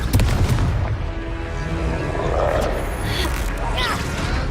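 Confringo fire spell blast in the video game Hogwarts Legacy: a loud, booming burst at the start followed by a continuous roaring rumble, with a voice talking over the combat noise.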